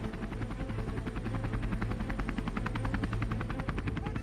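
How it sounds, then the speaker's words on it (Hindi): Apache attack helicopters circle overhead along with kamikaze and surveillance drones, a continuous loud rotor thump with steady rapid blade chop that persists throughout, with no voices. "कामिकेज, सर्विलांस ड्रोन और अपाचे अटैक हेलीकॉप्टर आसमान में चक्कर काट रहे हैं।"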